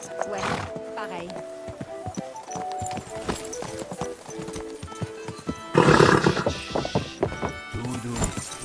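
A horse in the medieval video game Kingdom Come: Deliverance 2 neighs over a steady clip-clop of hooves, with game music and speech heard in the scene.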